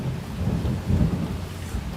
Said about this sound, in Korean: 빗소리 좋아요?